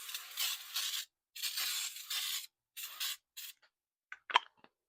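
Baker's Joy baking spray hisses onto a 9 by 13 inch cake pan in several short, close bursts, followed by a few faint clicks.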